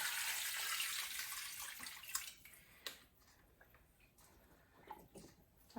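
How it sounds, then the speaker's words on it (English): Water poured from a small bucket into a pot in a home kitchen, a steady rushing splash that fades into lighter trickles and drips, followed by a few sharp clinks. "I'll be adding water"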